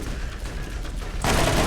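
Video game gunfire in Borderlands, a dense crackling barrage that swells louder and fuller partway through, continuous and close with no speech over it.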